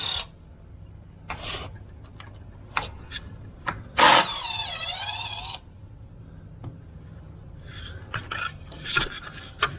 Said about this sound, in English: Matt just pulls the screws.